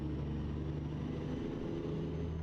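A passing truck's engine rumbles steadily nearby, a low, continuous drone that holds throughout without voices.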